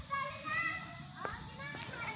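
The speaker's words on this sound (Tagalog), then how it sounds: "So yung mga bata kasama ko yung naglalaro" Children play close by, their high voices chattering and calling out over a short busy stretch, with light knocks and footsteps mixed in.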